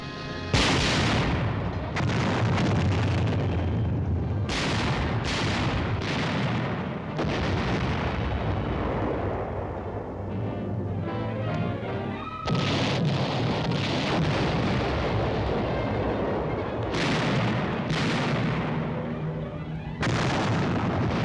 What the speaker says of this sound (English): A 3-hour barrage softened up the German trenches before First Army infantry launched their attack.